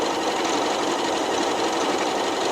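A Janome Horizon 9400 sewing machine stitches a programmed custom stitch sequence at high speed, giving a steady, loud, continuous mechanical whir with no pauses.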